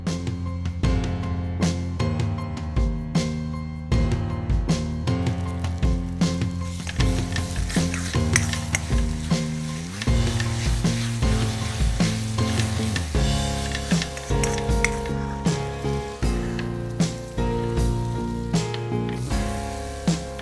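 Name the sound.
ground dal added to hot oil, sizzling in pan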